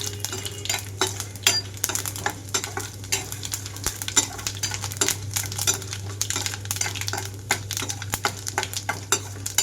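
Chana dal and urad dal fry in oil with seasoning seeds and dried red chillies, a constant sizzle under frequent scraping and clinking of a spoon against the pan, close and busy.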